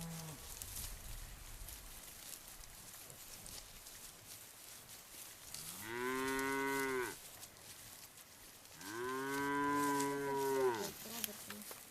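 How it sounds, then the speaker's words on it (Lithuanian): Cows on a farm low twice: two long, loud harmonic moos, the second longer, rising from a quiet barnyard background after faint earlier rustling. "Bet jau gražios karvės"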